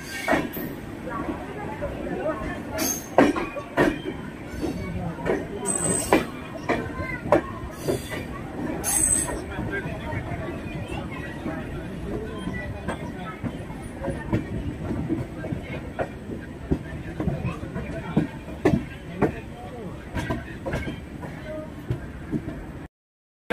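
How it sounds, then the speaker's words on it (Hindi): Passenger train running from Darbhanga toward Samastipur rattles steadily with rhythmic clickety-clack, wheel squeals and sharp clanks, loud and close from inside the carriage. "हमारी ट्रेन जो है दरभंगा से खुल चुकी है और समस्तीपुर के तरफ"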